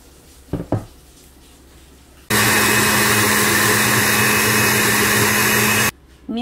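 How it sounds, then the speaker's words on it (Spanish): A kitchen blender liquefies chopped cucumber with water, starting abruptly as a loud, steady whirring roar that runs for several seconds and then cuts off, after a few faint clicks and knocks. "Mientras tanto se licúa el pepino"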